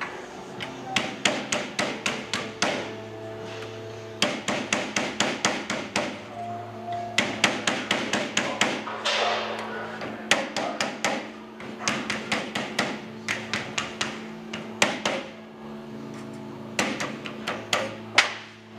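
A hammer strikes metal flower petals on a homemade anvil, a handrail cap welded to a table. Bursts of rapid, ringing metallic blows repeat through the clip, close and loud, with brief pauses between runs.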